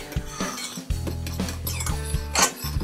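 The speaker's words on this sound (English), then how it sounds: "So I'm mixing up the sugar into the flour and baking soda." A fork mixing sugar into flour and baking soda in a bowl: steady scraping and tapping with bright metallic clinks against the dish, close and continuous, no talking.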